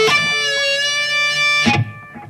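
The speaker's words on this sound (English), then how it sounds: "He'd usually add a dip with the whammy bar, or bend the neck a bit to make them stick out" Electric guitar natural harmonics ring out as bright, sustained bell-like tones, then dip in pitch with the whammy bar before fading, played alone and close.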